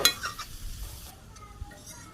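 Vegetables with chopped onion and green chilli being stirred in a pan, a short burst of sizzling with scraping and a light utensil knock, fading quieter toward the end.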